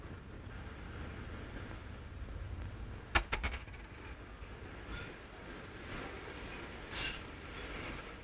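Quiet, steady rumble of a train rolling on rails, with a brief burst of sharp metallic clanks partway through.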